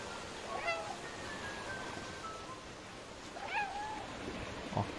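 A cat character in the video game Stray meows twice, soft rising calls separated by a few seconds, over a quiet ambient game backdrop with a faint streaming-water hiss.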